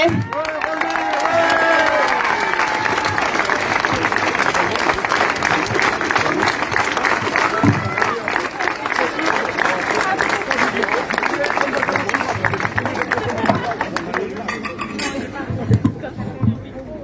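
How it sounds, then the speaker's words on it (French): Sustained applause from a crowd at a street demonstration in Ajaccio, steady and dense for the whole stretch, with some chatter and a few cheers mixed in. "On peut l'applaudir, le motiver."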